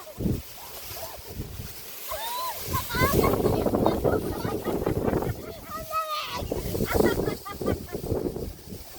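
Gusty wind buffets the microphone with low rumbling bursts on a hike around Mt. Bira Bira, while people talk over it throughout.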